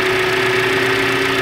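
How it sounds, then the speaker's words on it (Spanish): A 2013 Chevrolet Captiva Sport with a power-loss fault runs at a steady idle, its engine and exhaust giving a close, continuous droning hum with a faint uneven knock throughout. "para que vean cómo hace el escape, para que vean cómo qué es lo que está fallando"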